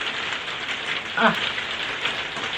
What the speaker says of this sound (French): il pleut pile quand je filme quoi, c'est abusé